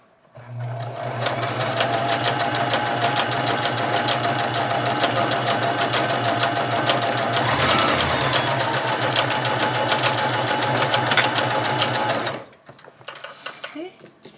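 A sewing machine stitches through junk journal paper pages in one long, steady, close whirring run for about twelve seconds, then stops abruptly, followed by a few soft handling sounds.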